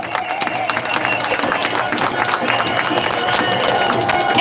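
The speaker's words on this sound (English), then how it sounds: "Everyone give them a round of applause, please." A crowd at an outdoor rally applauds the marshals team with steady, sustained clapping and cheering, mixed with crowd noise and chatter and holding at a loud level throughout.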